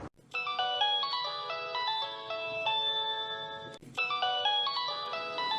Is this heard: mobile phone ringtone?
yes